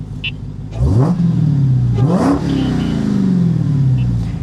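A Dodge Demon in mint condition revs sharply twice as the gas pedal is pressed, its pitch climbing quickly with each blip, then settling into a loud, slowly falling engine drone.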